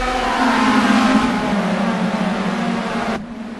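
Race cars accelerate together off the start of a heat at a racing meeting, a loud, continuous high-pitched engine roar that holds steady, then drops slightly in tone near the end.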